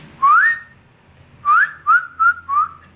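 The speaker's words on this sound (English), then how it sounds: "I can whistle." A person whistles alone and close: one sustained rising note, a pause, then four short rising chirps in quick succession.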